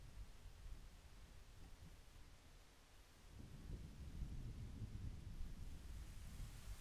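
Rain and rolling thunder from the video game The Legend of Zelda: Ocarina of Time, a steady broadband downpour with a deep rumble swelling in partway through and staying loud to the end, with no talk over it.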